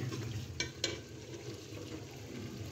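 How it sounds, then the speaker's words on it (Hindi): Chana dal going into masala that has been frying in a pan, with a steady sizzle and a couple of sharp clinks or scrapes of a spoon stirring, all close and without talk. "अब हम इसमें अपनी चने की दाल ऐड करेंगे"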